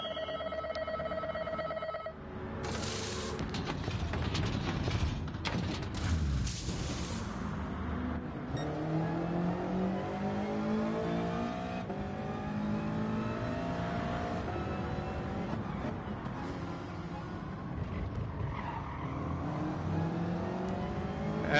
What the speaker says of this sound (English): I'm trying to rev this car up as much as I can